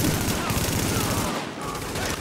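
Machine gun fire in Tom Clancy's The Division: loud, dense, sustained bursts of rapid shots that fill the whole stretch, with battle noise mixed in.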